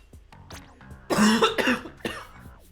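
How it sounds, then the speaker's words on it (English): Several coughs from a person with a lingering cough, a couple of light throat sounds first, then two or three loud, close, harsh coughs in quick succession. "I do have a bit of a cough still"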